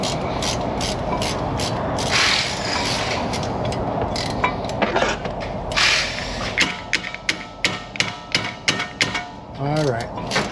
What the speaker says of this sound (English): I'm going to have to turn the thing all the way out with a wrench.